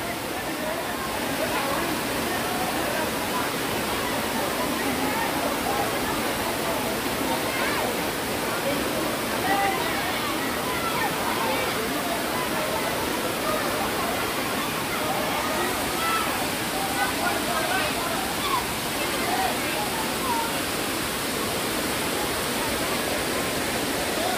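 Stream water pours out of a rock cave at Phuong Hoang cave, a summer bathing spot, making a constant, dense rushing roar with no breaks, steady and fairly close.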